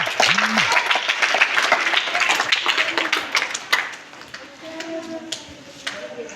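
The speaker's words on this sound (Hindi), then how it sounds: "एक बार तालियों से स्वागत करिए इन दोनों का।" Schoolchildren at a morning prayer assembly clap to welcome two students, a loud burst of many small hands that thins and fades toward the end, with a brief voice near the start.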